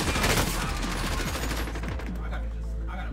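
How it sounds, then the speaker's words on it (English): Dense, overlapping automatic gunfire from several squads in Call of Duty Warzone rattles nonstop and loud, thinning toward the end into lower rumbling bursts. "Every single team is shooting."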